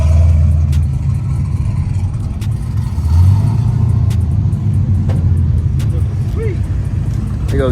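A Jeep engine rumbling at an outdoor classic car meet, a loud steady low growl with a slight rise partway through, heard under nearby people talking.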